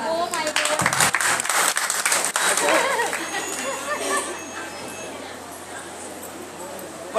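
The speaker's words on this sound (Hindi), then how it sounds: "पंडित जी के लिए तालियां।" Devotees at a Radha Krishna temple gathering in Delhi clap loudly for the pandit in a brief burst that thins into crowd chatter and voices.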